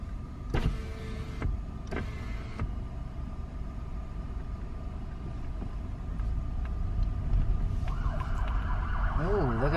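Police siren passing on a road, heard from inside a car with a power window whirring, its wailing tone rising faintly in the distance and swelling toward the end.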